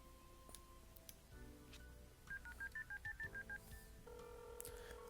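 Telephone keypad dialing in the video game YIIK: A Postmodern RPG, a quick run of about ten evenly spaced DTMF beeps over a quiet, low background hum, with no talking.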